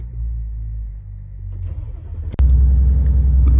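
A Lamborghini Urus SUV parked in Paris: a low, steady rumble, then a sudden sharp start into a louder, deeper, continuous engine idle close by.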